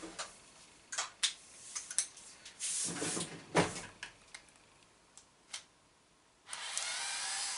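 Small screws being undone to open the rear casing of an old device, faint scattered clicks and metallic ticks with brief scraping handling noises in a quiet room.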